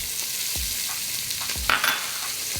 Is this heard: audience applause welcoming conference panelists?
no